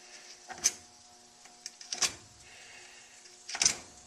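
A small, tight furnace blower motor strains and grinds in three short, labored bursts as it struggles to spin, with low hum and quiet pauses between attempts.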